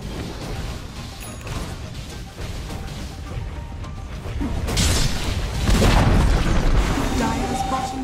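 A Dota 2 match in which the top tower is under attack. Continuous rumbling booms and impacts build in loudness toward the end, layered with muffled game noise and occasional game speech.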